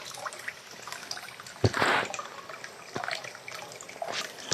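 Water overflowing from a mountain spring well, trickling and dribbling in a light continuous flow with occasional drips and small splashes, close and fairly quiet.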